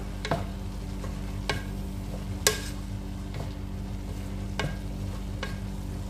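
Cabbage and tuna sauté in a pan with a continuous soft sizzle, punctuated by several sharp scrapes and taps of a utensil stirring at irregular intervals.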